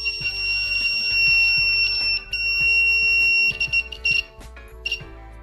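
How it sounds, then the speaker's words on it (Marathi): A small buzzer on a homemade rain alarm sounds once water is poured onto its sensor, giving a loud, shrill, steady electronic tone that holds, breaks off, and then returns in shorter stuttering bursts. "पाणी टाकल्यावर आपला बझर जो आहे तो साऊंड करायला लागलेला"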